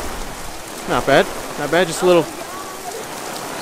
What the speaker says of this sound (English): Just a little bit of rain.